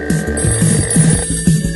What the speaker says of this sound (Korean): 다이얼을 돌리던 전화기.